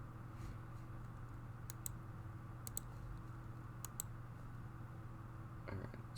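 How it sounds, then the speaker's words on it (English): Faint, sharp clicks picked up by a microphone during a live tabletop game stream, coming in small paired bursts every second or so over a low steady hum, with no talking. "Oh, you can hear my clicking."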